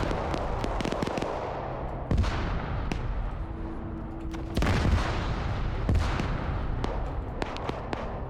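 Rapid cracks of gunfire mix with heavy booming explosions in a video game, irregular bursts over a rumbling background.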